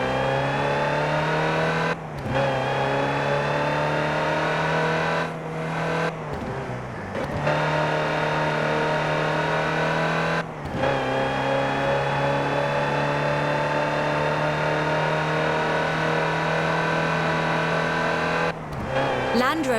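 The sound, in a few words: Land Rover Type 3 engine driving in Forza Horizon 4 video game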